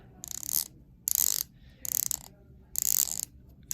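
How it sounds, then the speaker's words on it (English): Ceramic dive watch bezel on an Omega Seamaster 300M or Seiko Tuna turned by hand, giving four short bursts of crisp, close ratcheting clicks separated by brief pauses. "we'll take a listen to the bezels quick."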